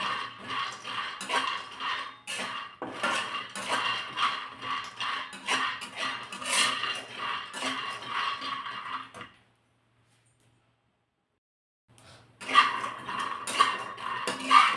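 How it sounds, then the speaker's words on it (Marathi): Peanuts roasting in a pan over medium heat, stirred with rattling, clinking scrapes in quick repeated bursts, close and clear, with a pause of near silence before the stirring resumes. "शेंगदाणे आपल्याला मध्यम आचेवर छानपैकी भाजून घ्यायचे"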